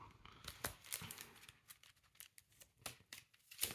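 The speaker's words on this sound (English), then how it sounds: "I'll shuffle them while you're doing that." Game cards being shuffled by hand during a tabletop match, quiet papery riffles and scraping flicks in an irregular rhythm, close and faint.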